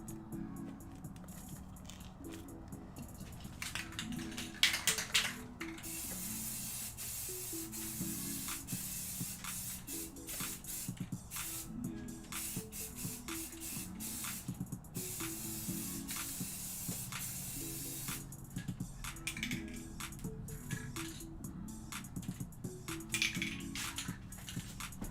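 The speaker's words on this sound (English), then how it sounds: "I'm gonna have to spray something." A spray gun hisses as finish is sprayed onto a painted old wooden dresser. The bursts are steady and close, with short pauses between passes and faint background sounds underneath.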